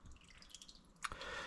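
Old oil dripping out of a 1961 Fordson Dexta tractor, falling in quiet, irregular drips into a pan, with one sharper splashing drop standing out against a faint background.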